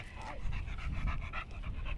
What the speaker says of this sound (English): Are you a happy dog?